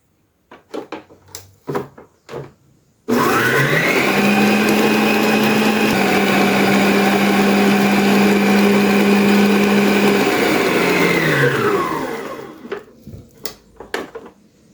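A kitchen mixer whips bolo de rolo cake batter in a loud, steady whirring drone that starts abruptly, holds for about nine seconds and then winds down, with a few clattering knocks before and after.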